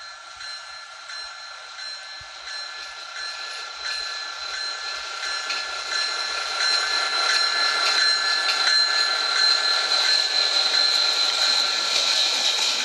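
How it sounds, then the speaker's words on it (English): A train rolls past a grade crossing in the video game TrainWorks 2, a steady hiss and hum with a high ringing tone throughout, growing slightly louder as it passes, with no talk. "I can even go like all the way to the next grade crossing and just sit there waiting for the train to go by."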